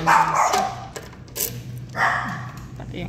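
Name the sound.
dog barking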